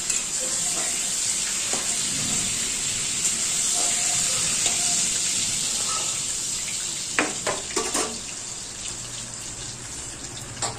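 Continuous hiss of giant freshwater prawns frying in oil, close and fairly loud, with a few sharp clinks and scrapes toward the end.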